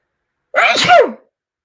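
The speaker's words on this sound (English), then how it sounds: "I've got to sneeze." A single loud sneeze, close up, a sharp burst of breath and voice lasting under a second, then silence.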